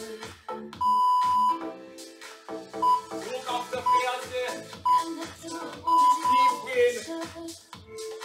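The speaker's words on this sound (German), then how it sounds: "Ich starte den Timer." Workout interval timer in a Tabata fitness class giving short electronic beeps, several steady tones spread through the clip, heard over a trainer's voice and background gym noise.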